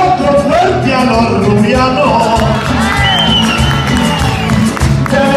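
A crowd at an outdoor trova performance in Icononzo claps and cheers, a loud, dense wash of applause with shouts and whoops throughout, under amplified voices.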